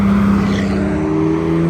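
An Aston Martin DB12 drives past close and loud on a Monterey Car Week street, its engine note a strong steady hum that shifts slightly as it goes by.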